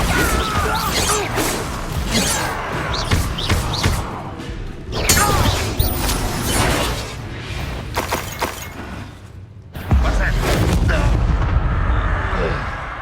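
A Bombarda spell blasts in the Hogwarts Legacy video game, part of a chain of booming magical explosions, with heavy loud bursts near the start, middle and end amid battle noise and dialogue.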